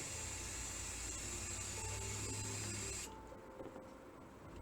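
An aerosol spray can hisses steadily while painting a furnace filter Christmas tree, a continuous close hiss that stops abruptly after about three seconds, leaving quiet room noise.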